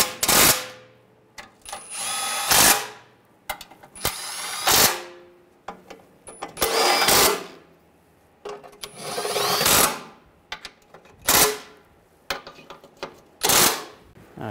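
Nuts being snugged down with a power tool on the oxygen sensor heat shield of a 2009–2010 BMW 535i xDrive with a 3.0L inline-six, heard as about ten loud, close bursts of whirring and ratcheting, each lasting a second or less, with short pauses between them.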